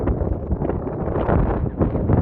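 Strong wind buffets the microphone in a continuous loud rumble, gusting up and down throughout with no voices.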